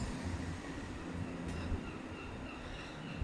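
Avanti West Coast Voyager diesel train units 221102 and 221108, heard from on board as a continuous rumbling roar with rail noise and a brief knock, steady and fairly quiet without speech.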